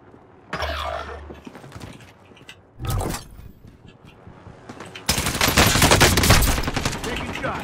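Gunfire in the video game Warzone: a short burst near the start, another brief volley around three seconds, then a sustained loud automatic spray filling the final stretch over a quiet game background.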